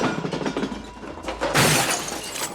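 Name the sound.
antique porcelain smashing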